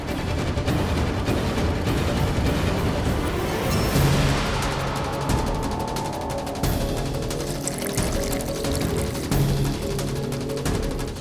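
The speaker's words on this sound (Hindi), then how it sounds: "ये तो मोरी के नीचे से पानी आ रहा है।" Dirty, stagnant drain water gushing out from under a household drain, a loud, steady splashing rush that runs without pause.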